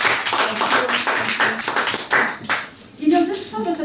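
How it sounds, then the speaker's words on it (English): Club meeting audience giving a round of applause, a fairly close burst of many hands clapping that thins out toward the end, with a brief voice near the close. "I think we all should give her a round of applause."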